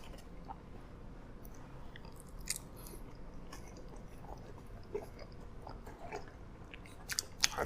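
Quiet, close chewing and crunching of MrBeast Burger Beast style fries, with soft bites and rustles repeating at an irregular pace and no talking.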